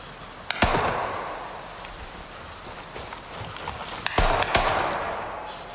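Swarm grenades go off in a first-person shooter game: sharp cracks followed by a wash of crackling, fizzing bursts that fade slowly, with two clusters of blasts a few seconds apart.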